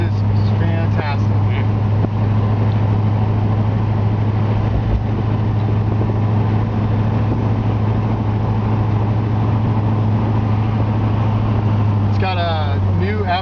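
A 1963 Ford Galaxie convertible with a rebuilt transmission cruises along the road, its engine giving a steady low drone with wind rush throughout and a few brief sounds near the start and end.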